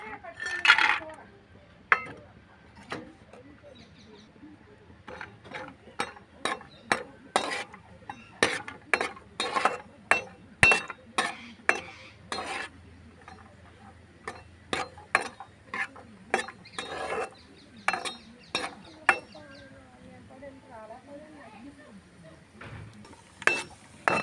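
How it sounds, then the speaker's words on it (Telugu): Cashews frying in a little ghee in a pan for village-style poha laddu, stirred with a metal spatula: a steady run of sharp clinks and scrapes against the pan over a faint, low sizzle, close and fairly quiet. "నెయ్యిలో ఈ జీడిపప్పు వేయించుకోవాలి"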